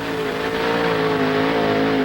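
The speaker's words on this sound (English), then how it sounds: "Borba's trying to get a shot out of his new Corvette" A Corvette pulling vehicle at a 1988 truck and tractor pull in San Jose, California, its engine holding a loud, sustained high rev during a pull run, steady and close with a slight rise toward the end.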